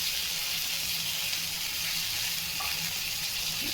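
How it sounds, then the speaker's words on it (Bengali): Egg and eggplant curry bubbles steadily in a pot as the eggs go in, a constant hissing simmer with faint soft plops and no talking. "ঝোলটা বলক চলে আসছে, দিয়ে দিচ্ছি যে ডিম"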